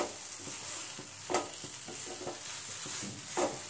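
Cooked barnyard millet (varai) sheera being stirred in a pan for a fasting sweet: close, irregular spoon scrapes and soft thuds over a faint steady hiss, with no talking.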